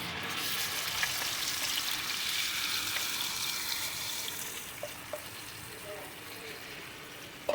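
Spiced chicken frying in hot oil on a tawa, a steady close sizzle and crackle throughout with a few small clinks near the end.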